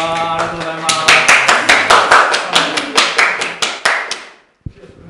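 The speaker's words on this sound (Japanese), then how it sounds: "拍手お願いします" A small audience claps for the players at a Japanese broadcast event: a short, lively burst of distinct, close hand claps that gradually fades and stops, with a voice briefly heard over it.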